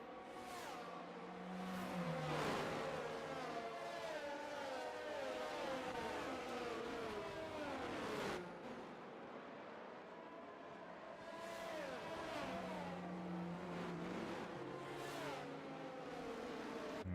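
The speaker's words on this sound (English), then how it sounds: "As we see the Mercedes safety car making its way around." A Mercedes safety car leading a pack of racing cars around the Australia circuit in a racing video game: layered, whining engines that rise and fall in pitch as cars pass close, with a brief dip midway.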